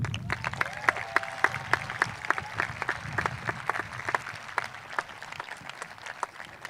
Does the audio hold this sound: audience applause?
yes